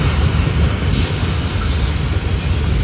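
A southbound CSX L425 mixed manifest freight train, its locomotives running long hood forward, rolls past close by, a loud continuous rumble of cars with steady wheel noise and faint squeal.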